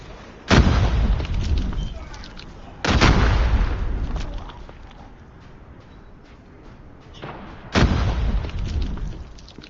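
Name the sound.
frag grenade explosion in video game Call of Duty Mobile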